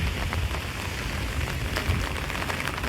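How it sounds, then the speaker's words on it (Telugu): Heavy rain pours down in Hyderabad as a dense, continuous hiss of drops striking surfaces, close and loud with a constant even level throughout, no voices present. "ఇక్కడ ఫుల్ వర్షం పడుతుంది హైదరాబాద్లో."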